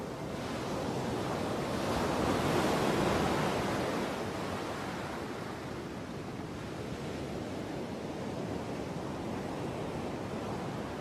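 Ocean surf from the Metal Gear Solid: Peace Walker video game rolls in a steady wash of waves, swelling to a louder peak early on, then settling into an even, continuous roar with no voices.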